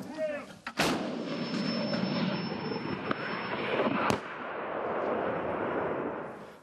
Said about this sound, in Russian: Все 52-миллиметровые пушки бьют прямой наводкой.